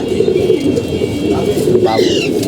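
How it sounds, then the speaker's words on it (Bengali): Silver pigeons coo in a loft at a home, a steady low murmur of several birds close by, with a brief higher call near the end. "সিলভার কবুতর এই যে কবুতর"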